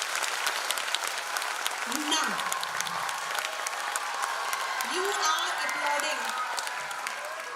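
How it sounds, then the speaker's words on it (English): An audience at a jubilee celebration applauds continuously in a broad, moderately loud wash of clapping while someone speaks briefly over it. "let's give them a very big round of applause."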